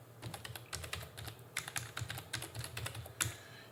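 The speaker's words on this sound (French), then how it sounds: "vous tapez des chiffres dans votre clavier" Typing on a computer keyboard during a Tuxedo OS installation: quick, irregular clusters of close, crisp key clicks with short pauses, no voices.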